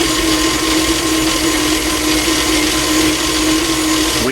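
An electric mixer whirs steadily through banana cake batter, a loud, constant motor drone with a steady hum and no break.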